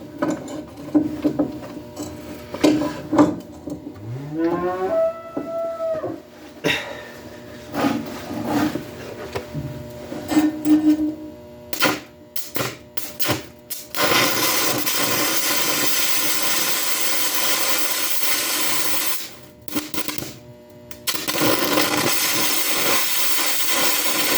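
Carbon arc electrode welding, a loud, steady harsh crackling hiss of the arc that runs long, dips briefly and resumes, after a stretch of scattered knocks and clatter.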